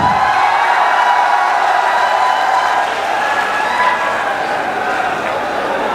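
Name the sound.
applause and cheering welcoming a speaker at a political rally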